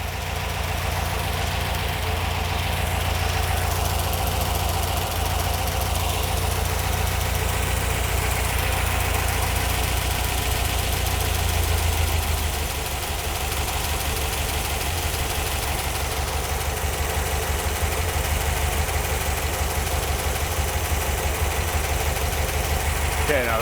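A Ford Y-block V8 in a Thunderbird idles loud and close, a steady low rumble with a slightly lumpy, ticking beat that holds for over twenty seconds, its pitch dipping briefly about halfway through.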